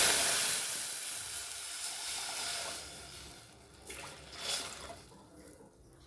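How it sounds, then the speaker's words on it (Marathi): Water hits hot oil and cumin seeds in a pan, starting with a loud, bright sizzling hiss that slowly fades into a softer bubbling simmer, with a brief flare near the end. "त्याच्यामध्ये आपल्याला पाणी टाकून घ्यायचं"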